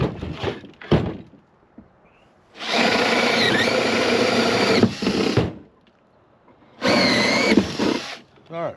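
A power drill with a Forstner bit whines loudly in two sustained bursts as it bores through wood, separated by quieter knocks and handling sounds.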